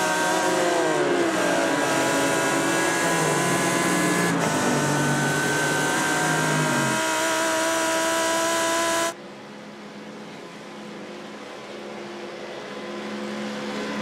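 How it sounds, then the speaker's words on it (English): Onboard a Lamborghini Huracan race car during a three-hour endurance race at the Nürburgring Nordschleife, the engine howls loud and close, revs climbing and dropping through gear changes, then cuts to a quieter, lower drone partway through. "we go on board with Carl Jansson in his Lamborghini Huracan"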